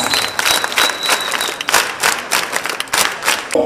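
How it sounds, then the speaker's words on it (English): An audience applauds guests seated on the dais at a formal ceremony, a dense, steady patter of many hands clapping together, loud and close, with no talking over it. "Once again, a big round of applause for all the guests on the dais."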